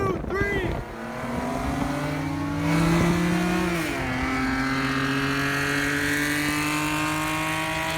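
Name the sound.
cars street racing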